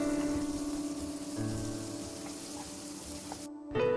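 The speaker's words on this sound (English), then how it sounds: "add onions, saute well till it turns translucent" Chopped onions sautéing in a pan with cumin seeds and whole spices for chole masala give a steady close sizzle with faint crackles, briefly cutting out near the end.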